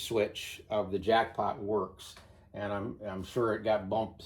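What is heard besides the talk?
None of the usual background noises is heard.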